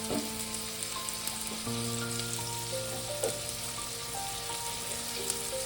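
Tomatoes and spices fry in hot oil for a mushroom and potato curry, giving a loud, constant sizzle with occasional stirring clatter, while a steady tonal hum sits underneath.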